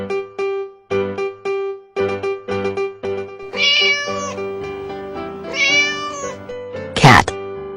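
A domestic cat meows in a few clear, close calls, the last one sharp and high, with no talk over them.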